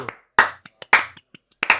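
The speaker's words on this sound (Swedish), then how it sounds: "Applåder!" A few people clap in short, uneven bursts at the opening of a Swedish podcast episode, with sparse gaps between the claps and no sustained crowd.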